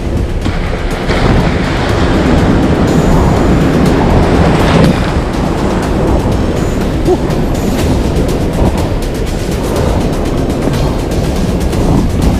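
Rough pre-monsoon sea waves heard from a fishing kayak, a loud, continuous roaring wash with surging crashes and turbulent water close by, no talking.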